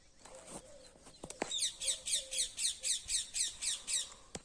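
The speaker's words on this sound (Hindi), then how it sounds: "देखो तोता बोलता सुन रहे आपको।" A parrot squawks repeatedly in a steady, rhythmic series of loud, harsh calls, about a dozen in a row, with a few sharper bird calls and faint background chirps before them.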